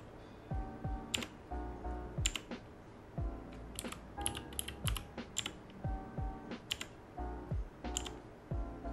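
Keys on a Thunderobot KC3068 wireless RGB mechanical gaming keyboard clack in short, irregular bursts of crisp presses, close and fairly quiet, with no talking.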